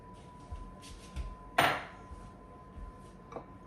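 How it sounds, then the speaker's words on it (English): Chopped celery dumped into a bowl in a home kitchen for chicken salad: one sharp clattering thud, with a few quieter knocks around it and a faint steady hum behind. "So I'm just going to dump this in this bowl over here."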